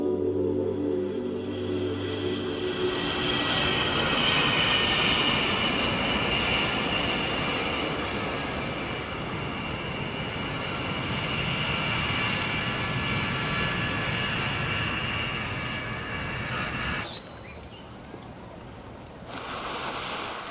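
A Russian airplane's engines drone steadily in flight, a continuous dense roar heard from inside, which drops away abruptly near the end before resuming more faintly.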